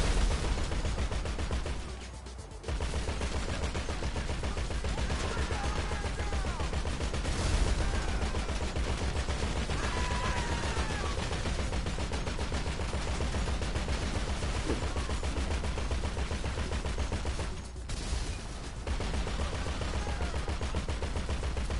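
Dense, sustained gunfire crackles almost without pause through a GTA 5 firefight, with a brief lull twice before the barrage resumes at a steady, busy level.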